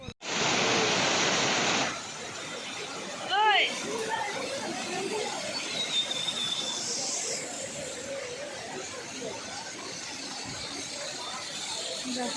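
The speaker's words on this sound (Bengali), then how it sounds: "এখানে একটা ছোট করে ওয়াটার ফলস রয়েছে" A small waterfall at a rock garden in Darjeeling, with water trickling out between rocks; steady broadband rushing runs throughout, louder for the first two seconds, with people chattering and talking over it.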